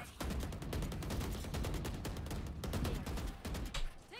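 Rapid gunfire in Valorant's Spike Rush mode, a dense string of sharp automatic shots in quick bursts, loud and close, with no talk.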